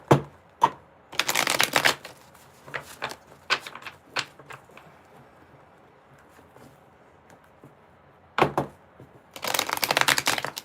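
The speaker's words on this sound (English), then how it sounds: "I gotta shuffle this up more." Tarot cards being shuffled up close: quick riffling bursts and scattered clicks and taps, with quiet gaps between shuffles.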